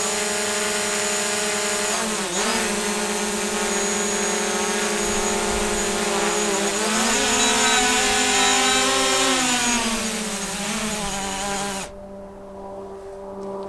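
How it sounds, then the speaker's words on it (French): DJI Mavic Pro drone making an automatic landing: a loud, steady high whine of spinning propellers close by, shifting pitch slightly as it descends, then cutting off abruptly near the end to leave a quiet hiss. "On essaie de le rapprocher le plus possible et on fait un atterrissage automatique cette fois-ci."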